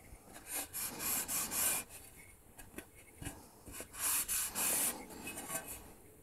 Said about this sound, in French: On nettoie bien, on clean bien les bords, les tranches.